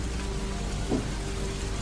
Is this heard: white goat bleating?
no